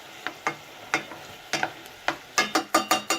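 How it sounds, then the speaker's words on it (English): Mince and onions frying in a pan, a soft sizzle punctuated by a series of sharp utensil scrapes and taps that come faster toward the end, close and fairly quiet. "So we'll do that until the onions are caramelised and the mince is browned off and sealed"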